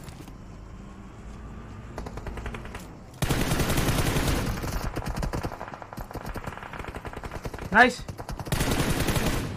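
Rapid machine gun fire from a mobile shooter video game comes in loud, dense bursts that run almost continuously, with a sharp single shot near the end and a brief spoken exclamation.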